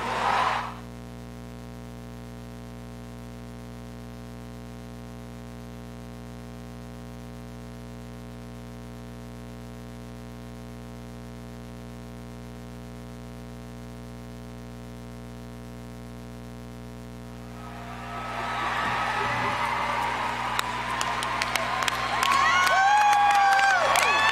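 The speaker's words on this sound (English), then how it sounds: "give a big round of applause for Van Jones" A long stretch of steady electrical hum gives way near the end to a rising crowd roar, with cheering and clapping greeting the keynote speaker, Van Jones, at the PowerShift 09 climate gathering.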